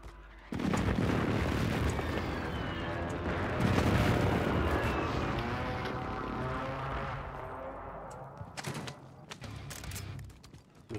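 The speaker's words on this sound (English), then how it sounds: "Enemy precision airstrike." A precision airstrike in Warzone sets off a loud run of booming explosions that roll on for several seconds and then fade. Scattered sharp cracks of gunfire follow near the end, with voices faintly underneath.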